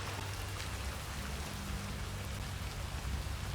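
Rain falling steadily in the China mission of the video game Hitman 3, a dense, even hiss of drops hitting surfaces with a low rumble beneath, continuous and close, with no voices.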